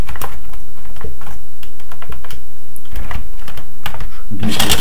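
Typing on a Toshiba Satellite A100 laptop keyboard: a run of quick, irregular key clicks close by, with a brief louder burst of clatter at the end and no talking.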